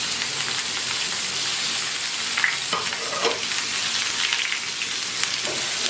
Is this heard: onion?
yes